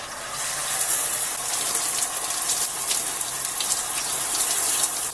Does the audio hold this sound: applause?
no